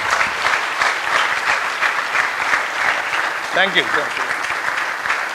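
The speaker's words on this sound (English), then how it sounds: "Can I just request the audience to give him a standing applause?" Sustained audience applause at a lecture hall event, dense and steady clapping across the whole stretch, with a brief spoken thanks from a speaker near the end.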